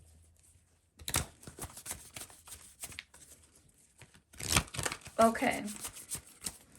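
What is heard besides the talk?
shuffling tarot cards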